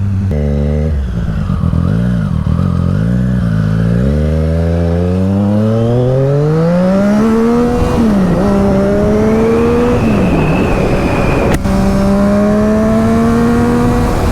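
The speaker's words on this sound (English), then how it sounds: "Clutch, rev, clutch, rev, clutch, rev. Now I'm in first gear." A motorcycle engine revs hard several times in quick succession, then pulls away in first gear and accelerates with a rising, then falling whine, loud and close, with one brief sharp click near the end.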